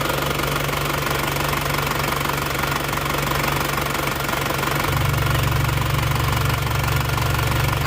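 A 2.5-litre Isuzu Panther diesel engine runs steadily with a loud, continuous knocking clatter and no voices. Its low rumble deepens and strengthens about two-thirds of the way through.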